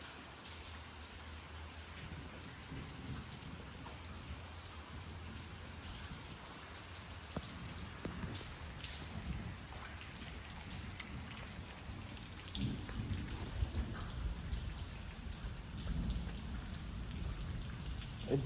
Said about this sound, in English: It's never gonna stop raining.